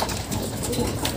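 Racing pigeon in a loft cooing close by, soft low throaty coos under a constant loud background hiss, brief and without talk.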